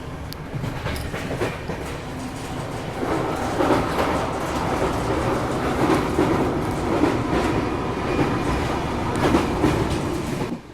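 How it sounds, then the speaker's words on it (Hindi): A goods train rolling past on an Indian railway line, a steady loud rumble of wheels and wagons with rhythmic clatter and faint squeals, sustained and close throughout. "खैर ये तो कोई गुड्स ट्रेन है।"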